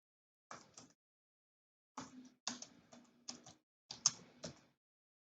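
A computer keyboard is typed on while entering Python expressions, giving short bursts of close, quiet key clicks separated by brief pauses, with no voices.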